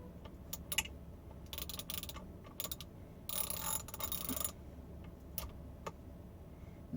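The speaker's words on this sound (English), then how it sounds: "You just keep on going around and it'll start biting into the wood." Screws being driven by hand into green-tinted treated 4x4 wood while building a flat screen mount: irregular bursts of ratcheting, grinding clicks, with one longer stretch of grinding midway and quieter clicks between, with no talk.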